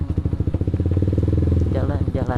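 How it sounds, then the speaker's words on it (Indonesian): Motorcycle engine warming up, idling with a steady, rapid pulsing thump at close range while a person talks over it. "manasin motor"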